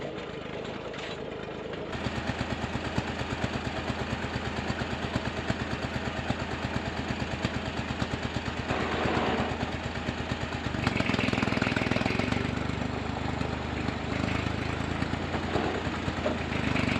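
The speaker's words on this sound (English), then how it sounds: "Luckily, the old Massey was up to the task." An old Massey tractor engine chugs steadily while hauling a trailer loaded with cedar logs, a moderate, continuous mechanical drone that grows slightly rougher near the end.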